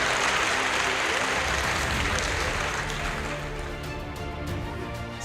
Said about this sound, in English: They will clap.